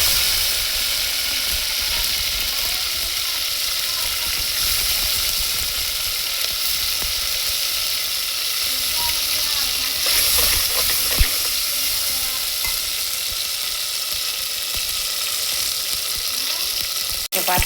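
Onions, green chillies and tomatoes fry in a pan for a fish curry, giving a loud, continuous close sizzle with occasional stirring scrapes and a brief clatter near the end, and no voices.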